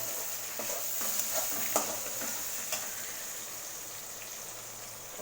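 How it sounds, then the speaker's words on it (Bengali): Meat with a little salt is stirred in a cooking pan: constant close sizzling and frying with intermittent scraping clinks of the spoon against the pan, no talking. "এবার দিয়ে নাড়াচাড়া করে নেব।"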